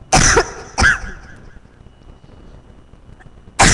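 Two sharp coughs close together near the start, then a quiet pause before another cough bursts in at the end; close and loud, no talking.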